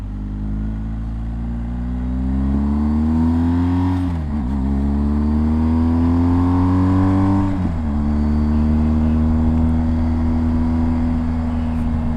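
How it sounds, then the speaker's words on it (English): A BMW 1250 GS motorcycle engine rumbles, rising in pitch as it revs, drops briefly during two gear shifts, then climbs again and settles into a steady drone. "You've got far more control of the bike with higher revs."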